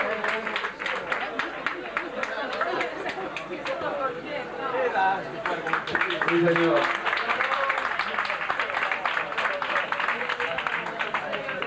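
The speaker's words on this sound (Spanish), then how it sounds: "Otro aplauso" Applause and crowd chatter from spectators at a surf contest prize-giving, steady clapping mixed with voices and a few shouts, with someone speaking over the crowd.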